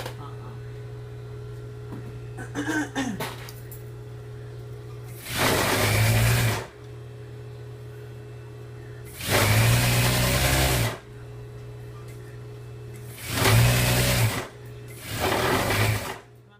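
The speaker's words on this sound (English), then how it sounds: "I'm just gonna sew that all the way around and leave that little hole" A sewing machine stitches around pants fabric in four separate bursts of a couple of seconds each, loud and close, with a steady low motor hum and quiet pauses in between.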